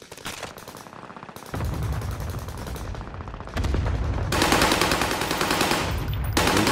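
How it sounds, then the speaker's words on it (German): Sustained machine gun fire in Call of Duty Warzone at Fortune's Keep, rapid loud continuous bursts from close by, intensifying across several seconds with no talk over it. "Dein Maschinengewehr, Alter."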